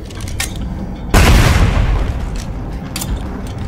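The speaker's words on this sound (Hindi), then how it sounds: "पाइप बम छेट हुए" A pipe bomb explodes in State of Decay 2 with a single sudden, loud blast that rumbles and fades over about a second amid lighter background game noise.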